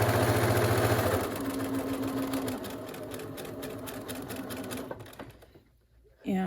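A home sewing machine runs a steady whirring stitch along the seam of a fabric medical mask for health workers, loud and close, then slows and stops near the end, followed by a person speaking.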